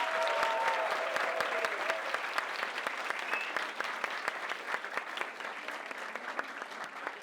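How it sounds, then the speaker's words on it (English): An audience applauds Viraj Sheth at the close of a talk on influencer marketing, with sustained, dense clapping that holds steady and eases off only slightly toward the end. "let's give a huge round of applause to Viraj"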